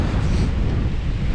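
Wind buffets the microphone on Parton Beach in the North West during a cod fishing trip, a steady, loud, low rumble that fills the short stretch without any voices.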